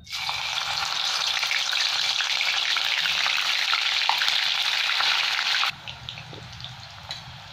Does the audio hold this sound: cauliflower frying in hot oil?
yes